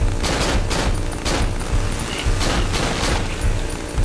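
Gunfire in the horror video game Cry of Fear: loud rapid shots fired in quick succession, a dense, continuous burst of reports with no talking.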